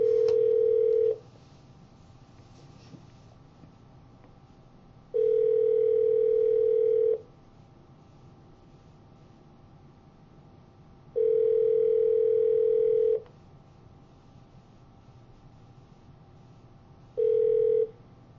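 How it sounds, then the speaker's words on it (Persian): A new telephone handset plays a steady electronic line tone in four long bursts, each about two seconds long and separated by several seconds of quiet hiss, clear and close with no speech. "بالاخره یه تلفن دیگه گرفتیم که آبرومندانه زنگ بزنیم به"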